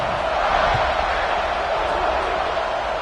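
Steady broadband roar of a stadium crowd in an American football video game after a score, a dense continuous buzz filling the whole stretch with no clear voices standing out.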